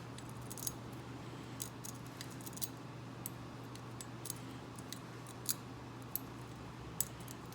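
An impressioning key worked inside a 1955 Ford trunk lock gives small, sharp metallic clicks, sparse and irregular, faint over a steady low hum.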